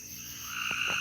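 Frogs croak at night, a steady high trilling chorus with a couple of brief lower croaks close by.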